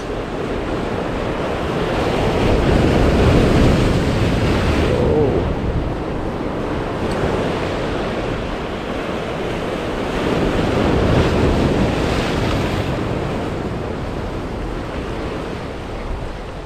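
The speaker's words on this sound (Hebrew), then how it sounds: "ים גבוה ומלחיץ." High, rough sea surf breaks continuously on the shore of the Israeli coast during shore jigging, a loud, steady roar of crashing waves with gusting wind buffeting the microphone.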